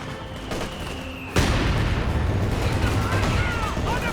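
Sustained gunfire and explosions erupt in a Company of Heroes 2 battle around an MG34 machine gun, a sudden loud onset followed by continuous rattling, blasts and rumble, with a commentator talking over it.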